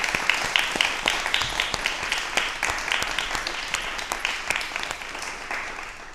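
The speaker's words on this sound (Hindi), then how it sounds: "एक बार दर्शक जोर से तालियां बजा दी जाए" A television talk show studio audience applauds with dense, even hand clapping, moderately loud and steady from start to finish with no talk over it.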